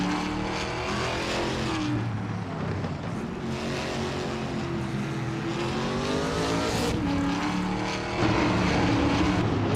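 Ford Mustang and Chevrolet Camaro race cars on a track, a steady loud roar of engines that rises and falls in pitch as cars pass, continuous and close with no talking.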